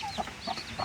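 Broiler chicks that have just hatched chirp in three short, bright cheeps spaced through the moment, close by, over a steady low rustling background with no talk.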